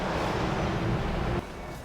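A car's worn wheel bearing gives a steady low droning rumble that drops off suddenly about two thirds of the way through, with no talk over it.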